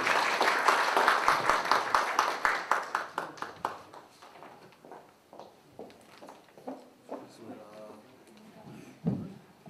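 An audience at a university graduate school academic event claps, starting as dense applause that thins into scattered, uneven claps and fades out, with voices audible beneath it.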